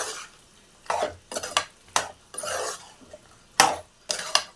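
Mutton and cucumber curry being stirred with chilli powder in a pan, a series of distinct scraping strokes about once a second over a quiet background sizzle.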